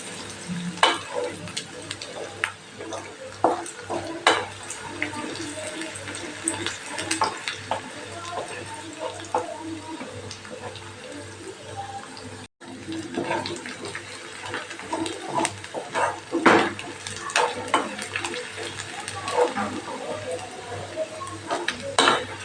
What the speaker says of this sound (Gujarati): પહેલાં ડુંગળીને સરસ આપણે સાંતળી સાતડી લેવાની છે એકદમ ટ્રાન્સપરન્ટ થાય ત્યાં સુધી